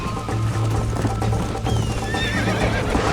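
A horse whinnies shrilly over rapid, rhythmic hoofbeats in the video game Red Dead Redemption 2, with galloping continuing throughout in a busy, game-like mix.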